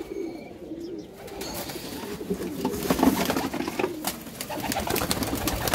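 A crowd of pigeons being readied for cargo shipment keep up a low, continuous rolling coo, close and steady, with scattered sharper clicks and rustles mixed in.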